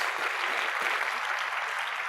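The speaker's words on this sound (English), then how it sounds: "let's give him a round of applause" A crowd at the New River Community College presidential inauguration applauds the newly installed president, a continuous even roar of clapping that fills the brief moment without talk.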